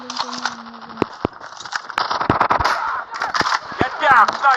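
Video game gunfire crackles in bursts of sharp shots and rapid automatic rattles, fairly close, mixed with game effects and speech.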